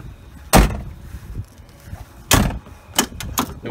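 Ford Explorer car door with a faulty power door lock, opened with a sharp broadband thump near the start, then a second louder latch thud and two quick clicks toward the end, up close and without talk.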